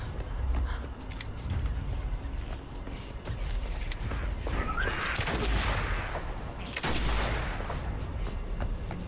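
Bursts of gunfire in the video game Killer Klowns, loud clustered shots with sharp cracks spread across several seconds over a busy game backdrop.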